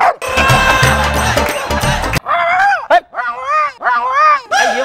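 A dog gives a string of high, whining yips and whimpers at close range, coming right after a loud burst of music.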